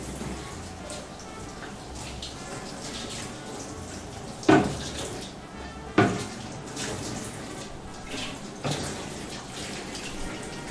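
Tap water runs steadily while dishes are washed in a home kitchen, with a few sharp clatters of crockery or utensils at intervals over the continuous flow.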